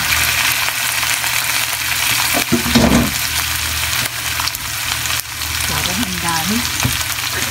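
Eggplant stir-frying in a hot pan for a Mabo Nasu-style dish gives a steady, loud sizzle with scraping stirs throughout, while a voice speaks briefly under the frying.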